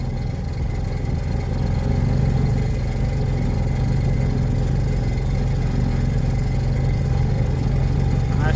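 A Piaggio Ape three-wheeler goods vehicle's engine running steadily, a continuous low, rumbling drone heard close and loud throughout, with no clear change in pace.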